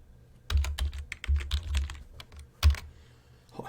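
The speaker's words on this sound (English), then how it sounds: "Let me finish typing and then start writing" Rapid bursts of keystrokes on a computer keyboard, close and clear with uneven rhythm and short pauses between runs of typing, no voices.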